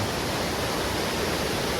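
Steady, dense roar of a waterfall in Nakhon Nayok, Thailand, heard up close as an unbroken rushing hiss with no pauses.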